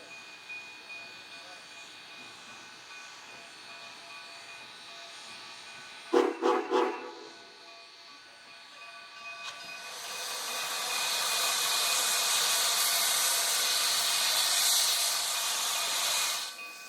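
Two steam locomotives double-heading a train on the Cumbres & Toltec line toward Cumbres Summit, with a short burst of steam-whistle blasts, then a loud, steady roar of hissing steam that swells and holds.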